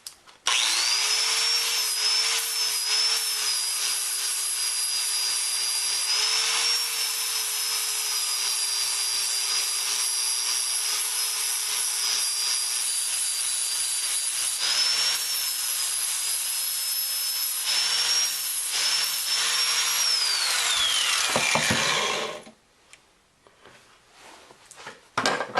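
A power tool grinds steadily into a wooden knife handle on a blade made from a saw blade, shaping it down to the metal: a loud, continuous high whine with slight pitch wavers for about twenty seconds, then it spins down and stops.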